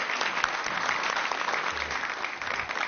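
Studio audience at a live talk show on university life claps steadily, a dense even roar of applause with a faint murmur of voices underneath.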